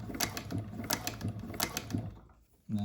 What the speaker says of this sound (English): let's do a quick test here, and we'll do a little bit of a seam on some of the scrap leather that I have